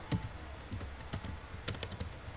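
Fingers type on a computer keyboard while network settings are entered, producing irregular, fairly quiet clicks and taps at close range, some keystrokes sharper than others.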